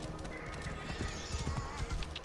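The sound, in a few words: horse neighing and hooves, video game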